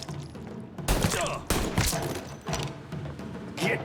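Gunfire in the Mafia 3 video game: several loud, close bursts of shots in quick succession with heavy thuds, no talk over them.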